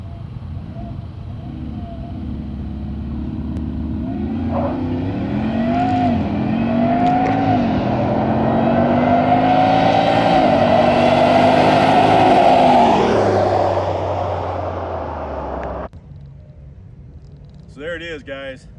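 A supercharged Jeep Rubicon 392 in four-wheel drive launches in a 0-60 run, its engine climbing loudly through rising revs with brief shift dips before easing off, then cutting to quieter ambience.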